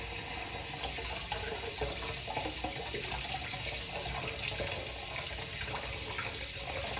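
Running water rinses shaved beard hair off a safety razor in a bowl during a wet shave, a steady broadband splash and trickle that holds for the whole stretch with no talking.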